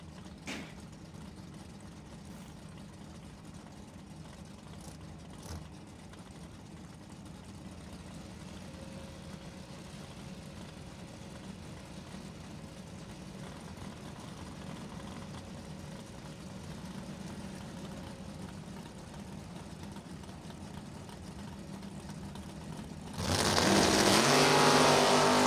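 A Camaro and a Mustang idle at a drag strip for a summer bracket race, their engines a low, steady rumble in the distance before the sound swells abruptly into a much louder roar near the end.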